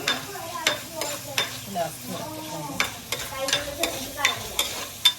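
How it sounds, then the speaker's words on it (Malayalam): A spatula scrapes and stirs food sautéing in a frying pan, with repeated rhythmic strokes over a steady close sizzle. "നന്നായിട്ട് വഴറ്റുക."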